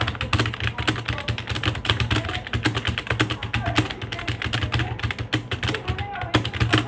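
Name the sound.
fast typing on a computer keyboard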